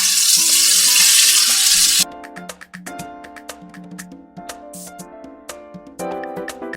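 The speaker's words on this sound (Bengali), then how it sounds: "এবার এই তেলের মধ্যে ডিমগুলোকে হালকা করে একটু ভেজে নিই।" Eggs fry in hot oil in a pan, a loud, dense sizzle for about two seconds before it cuts off and plucked, tuneful music takes over.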